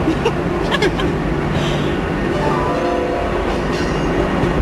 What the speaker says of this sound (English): as our subway pulled into the first stop